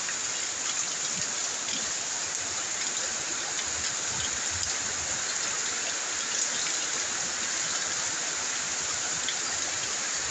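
Heavy rain pours down steadily on a tin roof in a village, a dense, unbroken hiss and patter, loud and close, with no voices.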